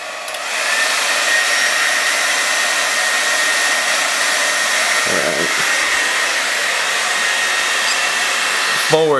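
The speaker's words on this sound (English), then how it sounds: "We'll see him with the blow dryer." A blow dryer roars steadily and loudly for several seconds during a tech demo, with a couple of brief clicks and shifts in its whine near the middle and end.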